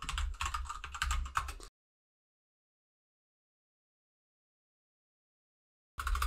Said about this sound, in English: type the username root and the password that you set